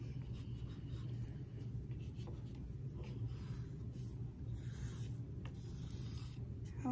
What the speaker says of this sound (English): I could draw more feathers around in different colors.